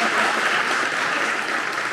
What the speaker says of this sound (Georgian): აპლოდისმენტები ჯაფარა